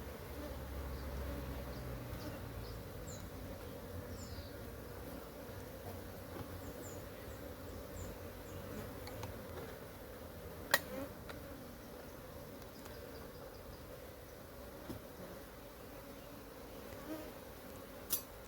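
Honey bees hum at an opened beehive during a swarm-prevention inspection, a soft, steady drone close by with a few sharper clicks and knocks from handling the boxes.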